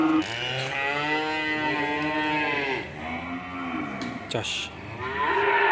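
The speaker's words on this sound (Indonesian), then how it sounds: "Ini ada kumpulan sapi-sapi putih super-super" White cattle moo loudly and repeatedly at a livestock market in Kebumen, with long drawn-out lowing calls filling the whole stretch and a brief sharp noise midway.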